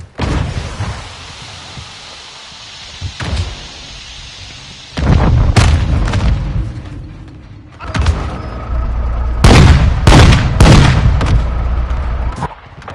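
Heavy gunfire and booming explosions from Call of Duty Modern Warfare 2 roll through a loud battle, with rumbling blasts, sharp cracks of shots and sustained combat noise growing denser toward the end.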